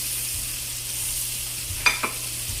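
Butter with minced onion and garlic sizzles steadily in a pan, a bright continuous hiss, with a couple of brief clinks or pops near the end.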